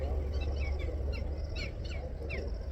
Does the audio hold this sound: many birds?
yes